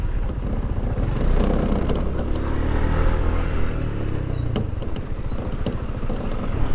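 A Kawasaki KLR650 motorcycle filters through traffic, its engine droning steadily and loudly up close with a continuous rumble and surrounding road noise throughout.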